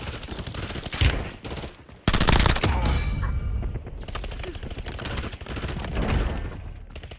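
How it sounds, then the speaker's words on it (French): Rapid automatic gunfire crackles in bursts through a Warzone battle-royale squad match, with loud sustained volleys, a short lull, then heavier continuous shooting. "J'ai vu des tirs."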